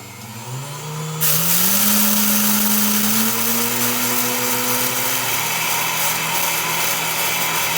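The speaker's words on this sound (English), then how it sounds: "you're going to hear the flaxseed being ground up" A Vitamix blender grinding flaxseeds whirs at low speed, its motor pitch climbing in steps before jumping to a loud, roaring high-speed spin that runs steadily to the end, with no talking.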